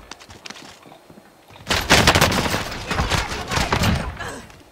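Automatic gunfire erupts in a first-person shooter game after a quiet, brief stretch with a few faint shots. A rapid, loud burst of shots follows and keeps rattling close for several seconds.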